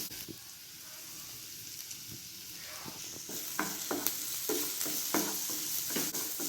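Chopped cooked chicken is stirred into a roll filling in a pan, a soft hiss underlying repeated scraping and clinking strokes that become more regular and louder toward the end; no voices.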